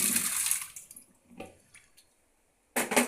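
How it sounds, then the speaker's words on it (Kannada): Water splashes from a container into a pressure cooker holding washed bean seeds for curry. A short pour is followed by a few drips, then a second brief splash near the end, all close and fairly loud. "ನೀರು ಹಾಕಿ"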